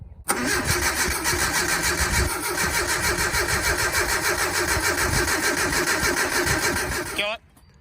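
A truck engine cranks and catches after a rebuild, then runs at a loud, steady rumble for several seconds before cutting off abruptly.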